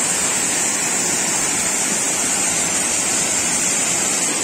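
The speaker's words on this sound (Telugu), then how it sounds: "ఇది ఒక వాటర్ ఫాల్ అండి" Sunnapugedda waterfall in the remote Srikakulam agency area pours in a loud, steady, broadband roar that stays constant and close throughout, with no voices over it.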